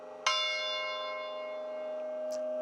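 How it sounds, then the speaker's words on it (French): A single church bell, hit during tuning, rings out with a sharp clang and then a long, steady hum that lingers for seconds, a faint tap sounding near the end. "L'accordage des cloches."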